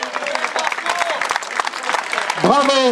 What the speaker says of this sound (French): on applaudit encore plus fort les deux concurrentes qui sont tombées